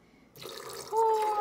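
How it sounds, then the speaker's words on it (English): Syrup poured into a shot glass, a brief liquid splash and trickle that starts abruptly and builds to a fuller, ringing pour in a little over a second. "You're going to just pour just the syrup."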